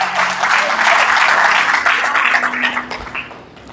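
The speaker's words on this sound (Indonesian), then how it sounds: "Berikan tepuk tangan buat Tuhan." A church congregation breaks into loud, dense applause during a sermon, steady clapping that swells and then gradually fades toward the end.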